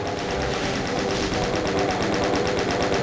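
Shots fired at imps in Doom, Sunlust MAP08 Oneira, on Ultra-Violence, form one continuous, loud, rapid-fire stream of evenly spaced blasts that never lets up.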